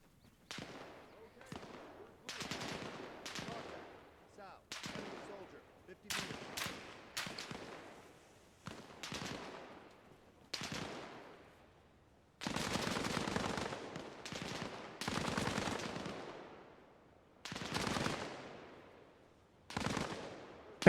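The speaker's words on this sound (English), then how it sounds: "That's a machine gun." Bursts of machine gun fire in a video game, sharp rattling volleys that start and stop repeatedly, some short and some sustained, loud and fairly close with brief pauses between bursts.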